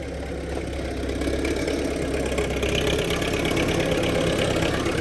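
A Belarus 80X tractor engine idles close by, a steady low throbbing chug that holds an even rhythm throughout, with no talking.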